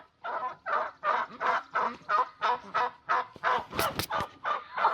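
Repeated loud honking from a duck, about a dozen harsh calls in steady rhythm close by, with no talk.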